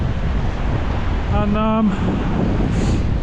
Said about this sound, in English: it is fierce wind